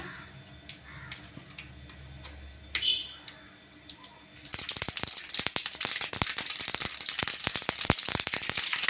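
Mustard seeds sizzling and popping in hot oil while cooking vallarai keerai paruppu kadaiyal, starting quietly then breaking into loud, dense crackling and spattering that continues steadily.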